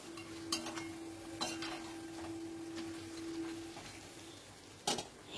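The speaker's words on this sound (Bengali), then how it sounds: "আবারও একটুখানি নাড়াচাড়া করে দিচ্ছি" Meat stirred in a cooking pan over medium-low flame, a few faint scattered scrapes and clinks of a utensil against the pan over a quiet background with a thin steady hum.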